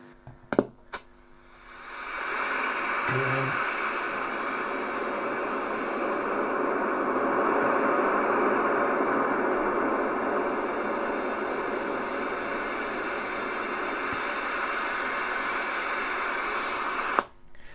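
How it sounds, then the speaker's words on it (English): A steady hiss of pink noise plays through an Electro-Harmonix Big Muff Pi amp setup for a long stretch, its tone gradually shifting brighter and duller as the tone control moves, with a few clicks at the start. "I'm going to carefully move the tone control so you can hear how it changes to the tone."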